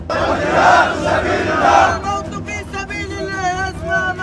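A large crowd at a funeral procession in Gaza chants slogans in loud rhythmic unison, many voices shouting together, then breaks into a wavering, ululating cry that carries over the din of the procession.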